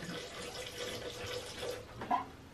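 Distilled water pours from a large container brought from home, a steady close splashing flow that runs throughout and swells into a brief louder gurgle near the end.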